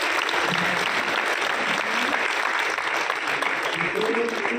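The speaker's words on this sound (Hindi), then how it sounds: "जोरदार तालियां।" Loud, sustained applause from a large audience in an auditorium at a political gathering, a dense even roar of clapping that holds throughout, with a voice speaking faintly beneath.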